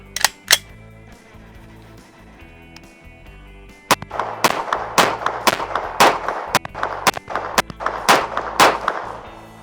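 Pistol gunshots fired using the sling push-pull method: two quick shots, a pause, then a rapid string of about a dozen sharp, loud cracks at uneven intervals, close to the shooter with no talking.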